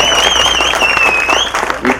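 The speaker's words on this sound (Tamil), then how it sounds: "கண்டிப்பாக கைத்தட்டு." An audience applauds at a film press meet, the clapping loud and close, with a sustained high-pitched tone wavering above it for most of the clip and a voice partly over it.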